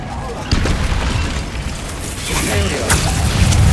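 A Bombarda blasting spell in the video game Hogwarts Legacy bursts with booming, crackling explosions, loud and close, mixed with game combat noise.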